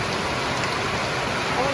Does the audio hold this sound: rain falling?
yes